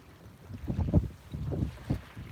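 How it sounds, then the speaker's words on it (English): Low, gusty wind rumbling against the microphone in uneven surges, with a couple of stronger buffets, and no voices. "it's been windy again all day today."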